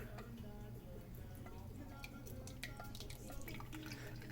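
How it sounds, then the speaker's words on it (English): Homemade jelly seltzer liquid poured through a strainer, a steady faint patter of drips and trickling over a low background hum, with no talking. "Seltzer does not have any chunks, so we got to run this through a strainer. So just pour that through your strainer."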